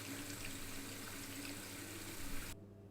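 Water running to rinse film during the wash step of home developing with a seaweed developer: a steady, faint tap-like rush that cuts off abruptly near the end, leaving quiet room tone.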